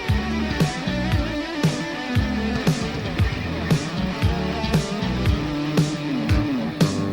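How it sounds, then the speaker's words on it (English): Guitar run through a TC 2290 digital delay with echo left uncontrolled, so repeats pile up into a dense, busy smear under a steady beat of drums and bass, loud and continuous. "In other situations, it can be difficult to control the degree of echo."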